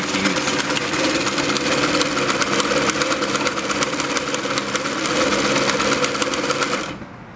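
An AtlasUSA AT2284 sewing machine stitching a zigzag, a loud, close, rapid mechanical chatter with a steady rhythmic needle beat that runs for about seven seconds and then stops abruptly.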